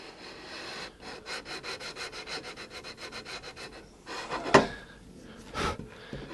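240 grit sandpaper worked over a guitar fretboard during a re-fret, giving a steady run of rhythmic back-and-forth rasping strokes, close and moderately loud, followed by a few louder, sharper scrapes.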